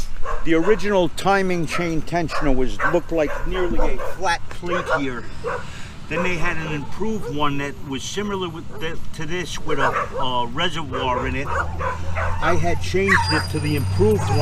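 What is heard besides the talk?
dogs barking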